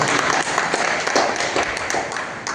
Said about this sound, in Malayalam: കൈയടിക്കാൻ.